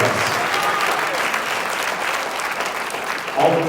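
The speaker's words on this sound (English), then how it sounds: "Would you give all of them applause for participating with us?" Sustained applause from a church congregation at New Birth Church, a dense steady wash of many hands clapping at even loudness, with a slight swell near the end.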